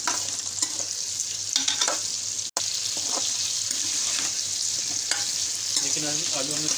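Steady crackling sizzle of potatoes frying in a pan, with occasional stirring scrapes and clinks, continuous and close, no voices.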